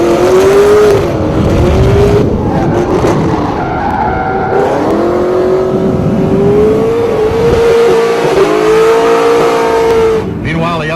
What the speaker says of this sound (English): we have Vaughn Gittin baptizing the famous corners with a Mustang drift lap